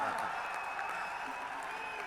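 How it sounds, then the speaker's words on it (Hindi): Dense, steady applause from an audience at a Hindi poetry recital fills the moment, an unbroken wash of many hands clapping at even volume with crowd murmur mixed in. "तालियां जरा ढंग से बजाओ, बजानी है तो मजा लो।"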